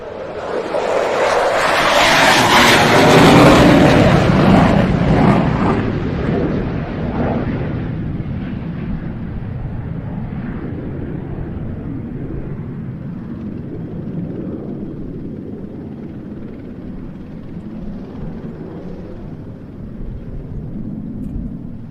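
An F-16 fighter jet, the oldest still flying, departs at the RIAT airshow with a loud, broad jet roar that peaks in the first few seconds and then fades to a steady distant rumble.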